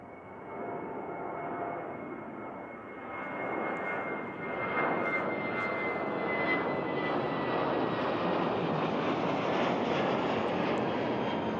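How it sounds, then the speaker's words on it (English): A jet airliner takes off northward from runway 02 at Christchurch, a broad sustained engine roar that builds and holds steady at a distance for the full stretch, with no voices over it. "it doesn't take long to get to Wellington in a jet, particularly with northern takeoff"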